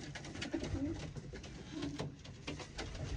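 Soft cooing of a small male racing pigeon repeats in low, throaty phrases, fairly close, over faint background noise.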